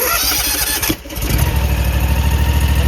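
A vehicle engine cranks and catches after a boost from a Lectron S10 portable jump starter, then settles into a loud, steady idle with a rhythmic low thrum close by.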